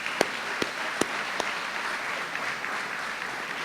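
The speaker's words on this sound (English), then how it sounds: "let's give this division a round of applause" An audience at a university opening day address applauds, a soft, even patter of many hands with a few sharper individual claps standing out near the start, lasting under four seconds.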